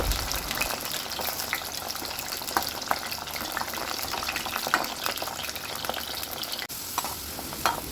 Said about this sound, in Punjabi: ਦੇਖੋ ਜੀ ਆਪਣੀ ਅਰਬੀ ਹੋ ਰਹੀ ਹੈ ਜੀ ਫਰਾਈ ਤੇ ਆਪਾਂ ਮੀਡੀਅਮ ਫਲੇਮ ਦੇ ਉੱਪਰ ਕਰ ਰਹੇ ਹਾਂ